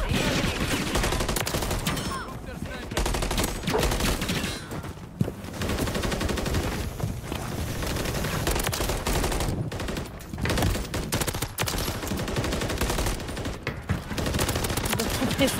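MCW rifle firing in a shooter video game, sustained automatic volleys repeating across the whole stretch, with brief pauses between bursts and a loud, dense rattle of shots.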